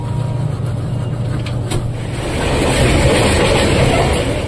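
The Doon Express passenger train runs on rails near Durgapur station with a loud, steady rumble and clatter, growing slightly louder toward the end.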